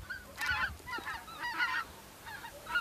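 Specklebelly geese honking during a goose hunt at Rosokastro, Bulgaria: repeated bursts of nasal, yelping calls from several birds, overlapping in loose clusters at moderate distance, with no voices.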